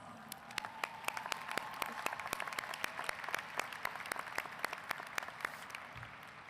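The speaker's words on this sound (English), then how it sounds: "Please give them a round of applause." Graduation ceremony audience applauding, a sparse spread of individual claps with distinct sharp hits over a faint crowd murmur and a thin background tone, moderately distant.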